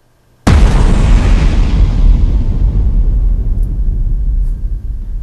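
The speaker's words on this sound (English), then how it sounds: "this amount of energy means an explosion of 110 grams of TNT" A sudden, very loud blast from 110 grams of TNT hits at once after near silence, then a heavy rumbling roar holds and slowly fades over several seconds.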